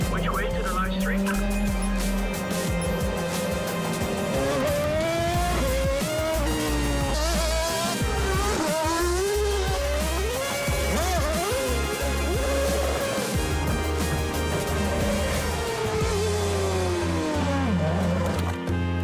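A Red Bull RB18 Formula 1 car from 2022 revs and drives at its launch event, its engine rising and falling in loud sweeping pitches throughout, with people talking over it.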